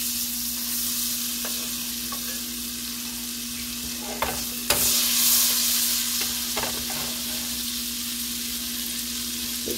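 Butter melts and sizzles in a pan warming on a stove set to 4, a steady soft frying hiss under a constant hum, broken by a few scrape and clink knocks near the middle.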